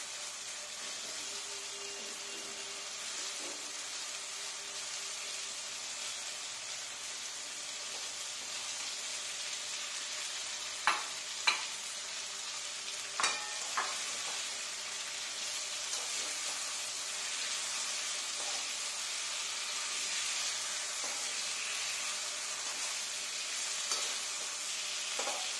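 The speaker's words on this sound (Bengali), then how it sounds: "এবার আমি মাছগুলোকে আস্তে আস্তে ওর মধ্যে দিয়ে দেবো।" Fish frying in a pan gives off a steady, even hiss of sizzling oil that holds throughout, broken now and then by a few soft clinks and taps of a utensil.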